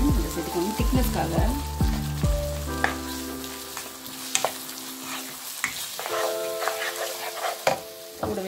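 Chicken manchurian sauce sizzles steadily in a pan as two spoons of cornflour dissolved in water are stirred in to thicken it; the frying hiss stays loud and continuous, with stirring scrapes and a few sharp clicks.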